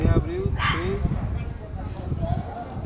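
A healthy 13-year-old dog makes short yips and whimpering barks under nearby conversation, the dog sounds brief and mixed in with continuous talking.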